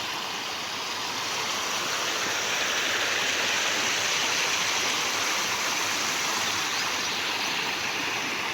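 River water rushing after heavy rain in a village, a continuous broad roar of flowing water, steady and fairly loud with no voices.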